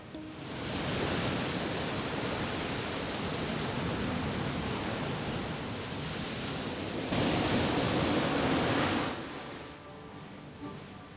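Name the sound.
waves crashing over volcanic rocks and black sand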